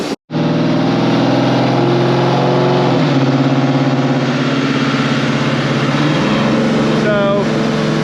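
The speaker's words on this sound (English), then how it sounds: "dyno tuning a car is a very long process of this" A 2006 Chrysler 300 SRT8 with a new camshaft roars on a dyno, its engine loud and sustained under steady throttle, pitch shifting partway through as it revs, close and continuous throughout.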